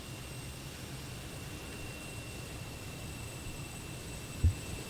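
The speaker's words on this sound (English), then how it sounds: "Gorgeous looking and sounding aircraft, I will say" Lockheed T-33 jet in flight in Microsoft Flight Simulator, a steady low engine drone with a faint high whine running throughout, alone and at an even, fairly quiet level, with one brief thump near the end.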